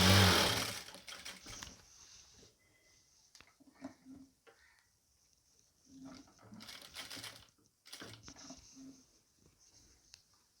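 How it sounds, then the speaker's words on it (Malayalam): A sewing machine stitches the folded hem along the edges of nighty fabric in short, irregular bursts of rapid whirring, separated by quiet pauses and soft fabric handling, with no talk over it. "മടക്കി നമുക്ക് എല്ലാ സൈഡും ഒന്ന് തയ്ച്ചു കൊടുക്കാം"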